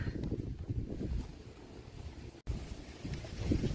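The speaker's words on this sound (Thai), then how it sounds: "ลมแรงจริงๆค่ะวันนี้" Strong wind gusting across a vegetable garden just after rain, where cabbages are being harvested, producing a loud, continuous low rumble of buffeting on the microphone with a brief dropout midway.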